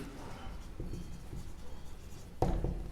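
A pen writing on paper makes soft, continuous close scratching and scribbling with a few light taps, ending with a sharper knock as the stroke finishes.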